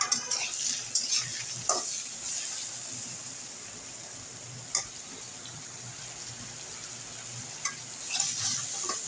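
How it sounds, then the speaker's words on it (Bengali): Prawns coated in turmeric, chili and salt fry in hot oil, making a soft continuous sizzle close by with occasional sharper pops and a few light stirring scrapes. "চিংড়ি মাছগুলো হলুদ মরিচ লবণের গুঁড়ায় মিশিয়ে ভেজে নিব।"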